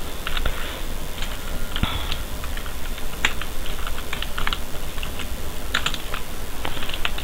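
Steady clicking keystrokes on a computer keyboard while a C program is typed, irregular bursts of taps with brief pauses, close and fairly quiet, with no voice.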